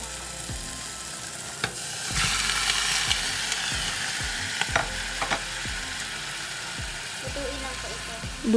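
Pork frying in a pan with tomato, a steady sizzle under a few sharp scraping and clinking stirs, moderately close with a brief louder burst of hiss partway through.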